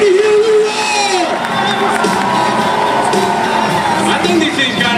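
A demolition derby crowd roars and cheers loudly and continuously, with high shouts and whoops mixed through the din.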